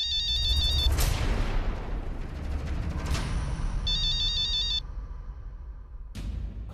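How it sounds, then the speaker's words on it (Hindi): A electronic phone ringtone chirps in two short bursts over a loud, rumbling background of noise and booms. "अरे वो भी देखना किसका फोन है"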